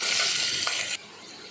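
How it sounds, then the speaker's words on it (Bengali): Ground spice paste of cardamom, cinnamon, cloves and black pepper sizzles in hot oil while being stirred for a beef and papaya curry, a brief close hiss that drops sharply about two-thirds of the way through. "পেস্টটা হালকা ভাজা দিয়া তারপর আদা রসুনের পেস্ট দিয়ে দিলাম"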